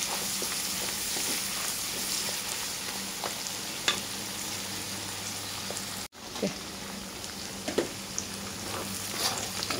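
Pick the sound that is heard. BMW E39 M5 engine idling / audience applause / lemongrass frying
lemongrass frying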